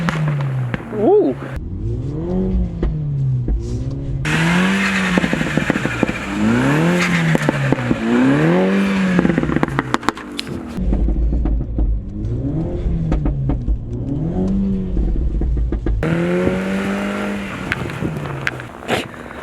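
A front-wheel-drive Mini Cooper S spins forward and reverse donuts in snow, its engine revving in repeated rising and falling sweeps close by, with people talking over it and a brief exclamation early on.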